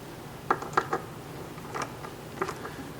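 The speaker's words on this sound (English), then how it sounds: "I just tighten back and forth until it feels very snug." Bass drum tension hardware being tightened back and forth with a key, giving a few faint, close ratcheting clicks in small clusters separated by quiet pauses.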